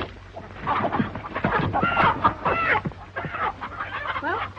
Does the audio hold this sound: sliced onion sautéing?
no